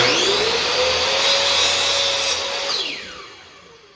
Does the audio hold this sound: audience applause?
no